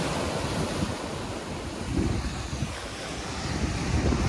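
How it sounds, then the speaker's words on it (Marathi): Rough sea surf at Harihareshwar churns steadily with a loud, broad roar, waves surging louder near the middle and end, mixed with gusty wind buffeting the microphone. "हो समुद्र खवळला"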